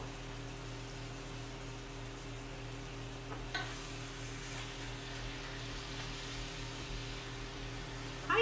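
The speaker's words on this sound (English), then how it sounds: "Let's stir our meat." Salted ground meat for shepherd's pie sizzles faintly in a pan, a low, even frying hiss over a steady background hum, with a brief scrape of stirring partway through and a clatter at the end.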